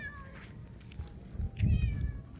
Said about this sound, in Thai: แมวหลายตัวเลย